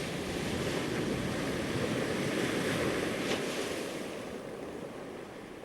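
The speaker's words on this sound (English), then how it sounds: "you would listen to the sound of the sea first" Steady sea surf washing in a broad, continuous roar with some wind, gradually easing toward the end.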